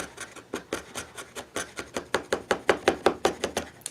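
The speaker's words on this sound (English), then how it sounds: "So if I cut across the grain, it will not chip on me." A hand saw cutting across the grain of a cherry wood plate blank, a steady rhythmic rasp of about twenty close strokes that grow louder and sharper toward the end, with no voices.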